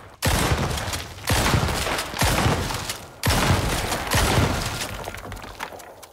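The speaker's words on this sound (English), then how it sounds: "Careful with your explosive shots, guys. You can get some collateral damage from those." Explosive rounds fired in the survival game Icarus, five loud booming blasts about a second apart, each with a crackling, shattering tail that fades before the next.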